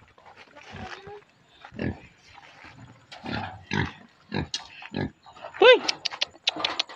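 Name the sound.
pig grunting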